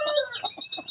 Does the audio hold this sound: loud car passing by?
no